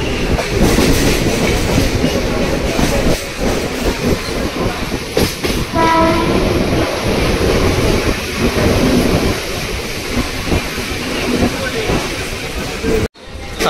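Mumbai local train on the Western line running toward Marine Lines station, with a steady loud rumble of rolling wagons, rattling clatter and a brief horn-like tone midway, heard from on board, cutting off abruptly at the end.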